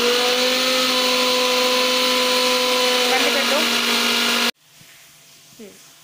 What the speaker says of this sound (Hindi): अभी इसे थोड़ा सा और ग्राइंड करना पड़ेगा क्योंकि अभी भी इसमें लम्स हैं